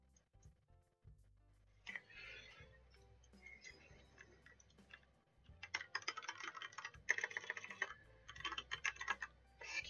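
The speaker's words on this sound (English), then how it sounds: "Excuse me while I fail at typing." Clattery typing on a computer keyboard, starting sparse and picking up into fast, dense bursts of keystrokes close to the mic with short pauses between runs.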